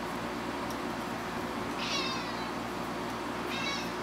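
A cat meows twice, short rising calls standing out clearly over a steady background hum in an indoor workshop where an old Zenith farm radio is being restored.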